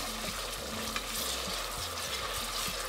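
Steady sizzling of onions frying with ginger-garlic paste in a pan for chicken biryani, with occasional stirring scrapes and knocks close by, continuous throughout.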